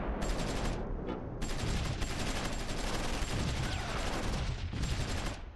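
Dense, sustained gunfire from the WWII video game Close Combat IV, Axis forces near Stavelot and Forrieres in December 1944, with overlapping bursts and volleys filling the whole stretch at steady loudness.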